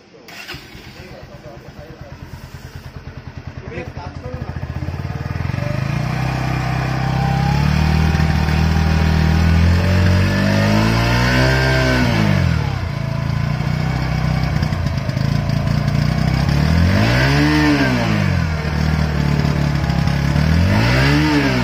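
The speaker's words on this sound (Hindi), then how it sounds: "तो चलो एग्जॉस्ट नोट आप लोगों को सुनाता हूँ" A 2021 Bajaj Pulsar NS 125 BS6 motorcycle with an underbelly exhaust idles loudly up close, then is revved several times, the exhaust pitch rising and falling with each throttle blip.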